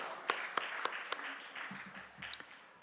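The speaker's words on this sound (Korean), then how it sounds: "우리 할렐루야로 하나님께 영광의 박수 올려드립니다" A church congregation in a prayer-house service claps sparsely, with a few sharp distinct claps and quieter scattered clapping underneath, faint overall.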